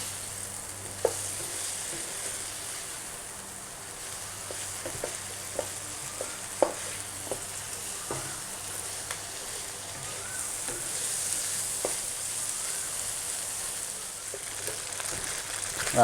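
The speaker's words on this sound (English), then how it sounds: "That just means that it's frying up nicely." A steady, gentle sizzle of tofu frying in a pan, broken by scattered soft pops and occasional stirring scrapes, with no voices.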